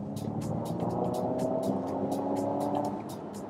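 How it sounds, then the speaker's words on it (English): Inside a 2023 Ford Mustang Mach-E GT electric car under way, a steady low whirring propulsion hum and road rumble runs throughout, with faint repeated ticking clicks above it. "here's the propulsion sound of the Mach-E."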